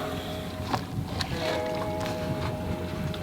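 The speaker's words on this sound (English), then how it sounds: "Windy!" Strong wind buffets a sailing boat underway, a constant roaring rush with gusty swells and a few sharp thumps, close to the microphone and heavy.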